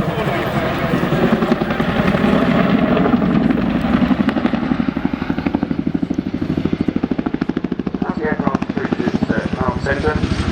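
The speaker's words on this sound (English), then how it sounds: "the unique ability of the Chinook helicopter to fly sideways" A Boeing Chinook Mark II twin-rotor helicopter at a flying display roars loudly and steadily with rapid rhythmic rotor thudding that grows more pronounced, while an announcer talks over it.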